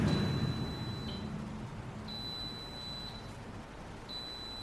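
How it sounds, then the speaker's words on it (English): A Philips Essential Airfryer XL signals the end of its cooking cycle with three short, thin beeps spaced about a second apart, fairly quiet over a faint background hum. "When it finishes the heating cycle or your roasting cycle, it will stop and beep."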